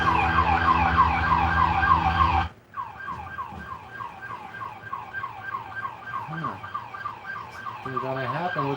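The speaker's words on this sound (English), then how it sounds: "That was an ambulance." Ambulance siren wailing steadily at close range, its pitch sweeping up and down continuously, with a brief drop in loudness partway through before the wail resumes alongside traffic rumble.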